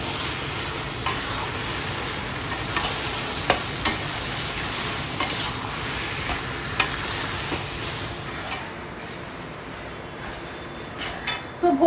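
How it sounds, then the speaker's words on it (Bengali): Fritters fry in a pan while being stirred for a Ganesh Chaturthi puja offering, a steady close sizzle punctuated by repeated sharp scrapes and knocks of the utensil against the pan. "তো এদিকে ঠাকুরের পায়েস হচ্ছে আর এদিকে ভাজাগুলো হচ্ছে।"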